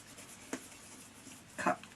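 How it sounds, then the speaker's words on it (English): An embossing tool rubs across craft material with faint, close scraping strokes. A soft scrape is followed by a slightly longer one in an otherwise quiet room. "I'm just embossing this, the tip, just like that"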